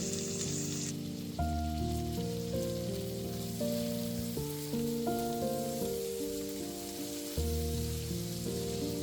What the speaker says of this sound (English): we're gonna add our peppers and mix to get them cooking for another minute or 2